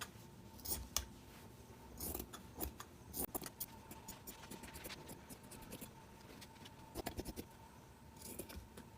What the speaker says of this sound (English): so let's cut it out now.